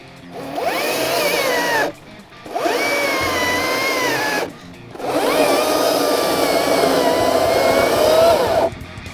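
A red Milwaukee electric chainsaw cuts through wood in three sustained whining bursts, pitch dipping under load, separated by short pauses, loud and close.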